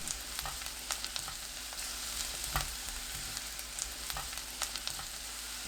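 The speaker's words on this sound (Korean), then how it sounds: "달구지 않은 팬에 식용유 2큰술, 마늘 넣고 중불로 3분 30초 볶습니다" Sliced garlic stir-fries in two spoonfuls of cooking oil over medium heat, giving a dense, even sizzle throughout, broken by light periodic clicks of a utensil against the pan.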